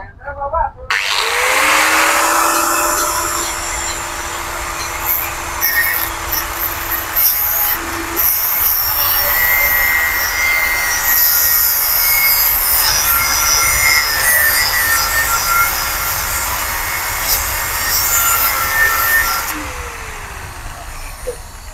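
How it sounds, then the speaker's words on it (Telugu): A machine cuts into a metal bike part with a steady, loud, high-pitched grinding whine lasting about twenty seconds, close up, with faint background noise. "లైట్ మిషన్లో పెట్టి చూడండి గైస్, ఇది కటింగ్ చేస్తున్నాను"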